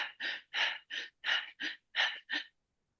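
A voice imitates the fast breathing of a marathon runner: eight quick, close, breathy huffs in an even rhythm, then silence.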